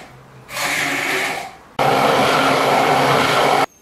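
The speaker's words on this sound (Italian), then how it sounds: "Ora con l'aiuto di un frullatore di immersione riduco le zucchine a crema." An immersion blender purées cooked zucchini into a cream in two bursts: a shorter whirring run, a brief pause, then a longer, louder grinding run that stops abruptly.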